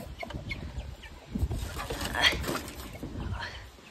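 Chickens cluck softly around a hen with newly hatched chicks in a village yard, scattered low clucks and rustling amid light background noise and faint voices.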